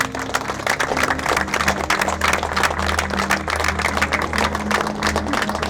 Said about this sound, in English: I just want to give a round of applause for everyone who's worked on it